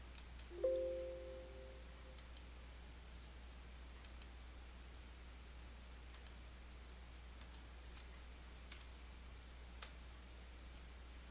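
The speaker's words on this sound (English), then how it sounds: "save your changes by clicking the Save button in the Quick Access toolbar" Sparse, faint computer mouse clicks come singly at uneven intervals of a second or two over a quiet hum, with one short tone near the start.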